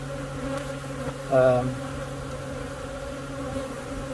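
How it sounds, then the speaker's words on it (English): Defensive honeybees buzz steadily around an open hive during an inspection, a constant droning hum with one louder swell as a bee passes close. "I'm honestly a little shocked at how defensive these bees are."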